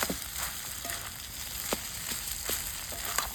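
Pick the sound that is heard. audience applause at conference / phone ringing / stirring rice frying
stirring rice frying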